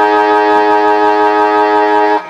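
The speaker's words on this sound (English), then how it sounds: "the siren sounds for three-quarter time at the John Ford Park here in Corowa" A loud, sustained siren wails steadily at an Australian rules football match at John Ford Park in Corowa, marking three-quarter time, holding an even tone before cutting off near the end.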